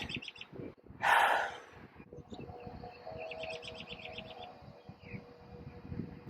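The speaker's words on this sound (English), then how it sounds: "And they're talking, the birds are talking." Birds chirp and call in the background, with a cluster of repeated tweets near the middle and end over a low rumble, plus one brief louder burst of noise early on.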